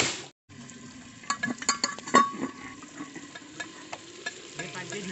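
Whole garlic cloves sizzle in hot oil in a clay pot while being stirred for desi chicken, giving a steady close frying hiss broken by scraping and clinking knocks of the spoon.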